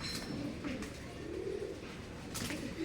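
Pigeons coo softly and repeatedly in a steady, low warble with no voices, their calls overlapping against a constant background hiss.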